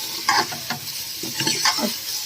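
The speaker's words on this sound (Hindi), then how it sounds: "तो अब इसे फिर भूनेंगे।" Spices and onion fry in a pot for shorwa, a soup, with black pepper, turmeric, salt and ginger-garlic paste: a steady sizzle broken by several distinct stirring scrapes, close and fairly loud.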